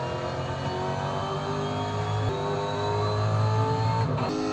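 A V8 supercar engine roars steadily around the Bathurst circuit in a racing video game, holding a loud, sustained drone with shifting pitch and revs throughout, no talk over it.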